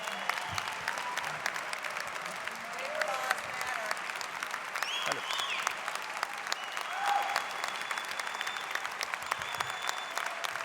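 Sustained applause from a crowd at the 2025 Unifor union constitutional convention, a dense continuous patter of clapping at moderate distance, with faint voices mixed in.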